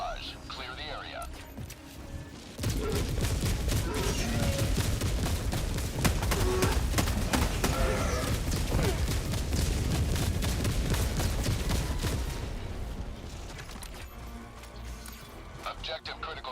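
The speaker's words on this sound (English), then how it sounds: "Requesting orbital. Firing orbital barrage." An orbital barrage strike in Helldivers 2 pounds the ground: a dense, loud run of booming impacts and crackling blasts rolling on for about ten seconds before fading, with a few quieter moments before and after.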